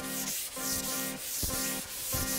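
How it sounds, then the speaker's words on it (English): Wood countertop being hand sanded with 320 grit sandpaper along the grain, steady back-and-forth rubbing strokes with light pressure, close and alone. "we're just gonna take 320 grit sandpaper and we're just gonna kind of go with the grain just by hand"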